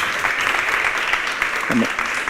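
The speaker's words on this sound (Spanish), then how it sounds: "vamos a dar un fuerte aplauso por esta gran película" Film festival audience gives a strong round of applause for a film, dense and steady clapping throughout, with a voice briefly speaking over it near the end.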